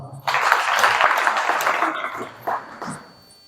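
Applause from an audience, dense clapping that fades out over a few seconds, with a few scattered claps near the end.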